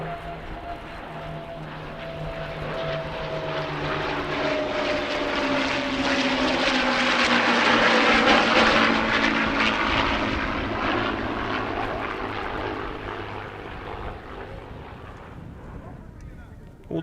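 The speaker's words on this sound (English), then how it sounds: "a victory flight featuring 3 of the Warbirds we saw earlier on" Three warbird propeller aircraft pass in a victory flight at an airshow, their engine drone swelling to a broad roar overhead and then gradually fading as they move away.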